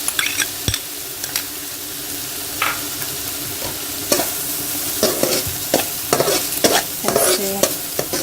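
Lamb sizzling in a karahi after ginger garlic paste is added, a steady loud frying hiss with frequent stirring scrapes and clinks of a utensil against the pan, heard close with no talk.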